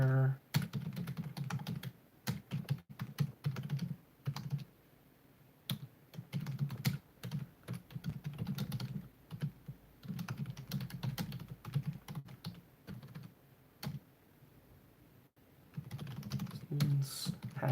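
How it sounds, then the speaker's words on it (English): Rapid bursts of typing on a computer keyboard, close and fairly quiet, with clicky keystrokes in uneven runs broken by short pauses. "I'm trying to type out the AP Stat prayer."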